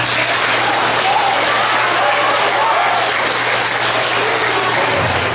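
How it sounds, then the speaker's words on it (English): A crowd gives guests a round of applause at a Star Wars themed Imperial garrison event, loud continuous clapping that fills the whole stretch with no speech over it. "Go ahead and give them a round of applause."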